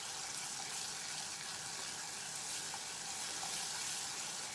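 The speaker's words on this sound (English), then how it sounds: "Just going to let those sugar crystals melt, and then I'm going to slowly add in my butter" Butter going into melted sugar caramel in a pan for a tarte tatin, giving a steady, continuous sizzling bubble at moderate volume with no talking.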